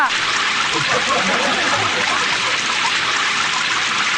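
Heavy rain pours down as a loud, dense, unbroken roar of hiss and spatter close by.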